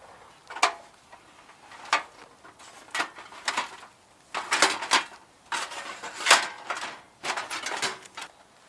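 A vintage fold-flat Coleman camping oven being unfolded and assembled, giving a series of separate metallic clanks, clicks and rattles at close range in an otherwise quiet setting, with no one talking.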